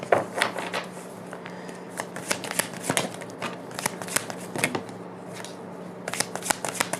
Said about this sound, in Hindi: ये लास्ट शफल है